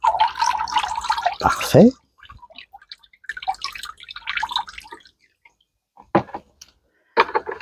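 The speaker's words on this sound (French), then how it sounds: "Ça va s'égoutter tranquillement." Water slowly draining and dripping through a pot being sown with blueberry seed, heard in short wet bursts between stretches of near silence, with a person talking briefly over it.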